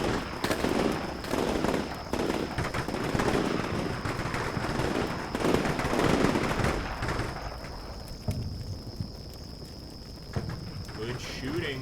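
Dense, continuous gunfire and explosions in the modern military game Combat Mission Shock Force 2, with a NATO ground invasion in Syria. Bursts and shots crackle steadily for most of the stretch, then thin out near the end.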